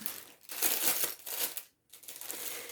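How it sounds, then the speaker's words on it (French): Plastic packaging from a diamond painting kit crinkles and crumples close up in loud bursts, with a brief silent pause before the rustling resumes. "Je vais le déballer hors caméra."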